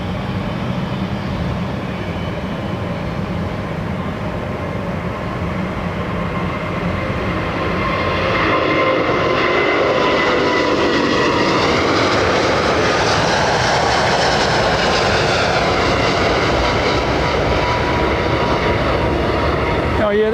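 A Boeing 787 Dreamliner passing at London Heathrow Airport, a loud broad jet roar that swells and shifts in pitch over twenty seconds, with faint talk underneath.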